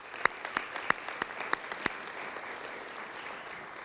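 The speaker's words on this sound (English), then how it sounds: "Let's give them a round of applause." Applause at a community launch event, a broad wash of clapping with several sharp, closer claps standing out near the start before settling into an even, moderate patter.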